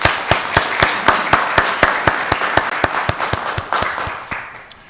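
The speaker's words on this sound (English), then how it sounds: "Let's give Pastor Curry a wonderful round of applause" Applause for a pastor at a county board of commissioners meeting, heard as a loud, steady run of sharp individual claps, fairly close, lasting throughout before thinning out at the end.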